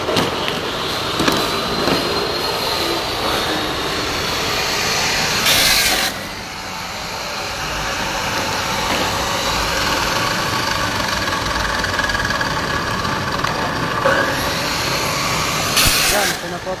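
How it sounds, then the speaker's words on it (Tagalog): An angle grinder cuts through wood decking boards during a deck installation, giving a steady, loud, whining roar with two sharper bursts, while workers' voices come and go over the noise. "Grinder da!"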